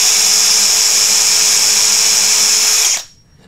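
Loud, steady whine of an electric drill boring through a thin wooden board, running continuously, then cutting off abruptly near the end, leaving quiet.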